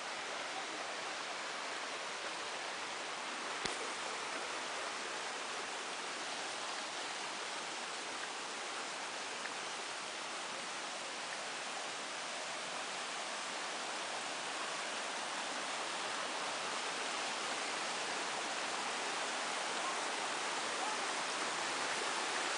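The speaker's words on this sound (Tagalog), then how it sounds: "Yan, running water." Running water of the Amuntay River rushes in a steady, broad hiss, continuous and even for the whole stretch with no voices over it.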